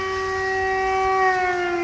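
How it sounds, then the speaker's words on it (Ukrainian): An air raid alert siren sounds over Saltivka in Kharkiv on a rainy November evening, a steady, loud wail holding one pitch for the whole stretch and heard alone. "лунає повітряна тривога"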